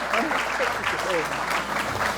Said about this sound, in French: Applaudissez pour Christiana, s'il vous plaît.